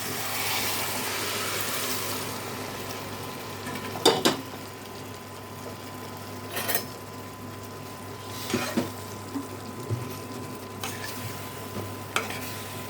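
Hilsa fish frying in mustard oil in a kadai gives a steady low sizzle, with a few sharp clinks and scrapes of stirring scattered through it and no talking.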